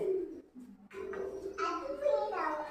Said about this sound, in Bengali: এই বাবা, আবার আসবে পায়রাটা, আবার আসবে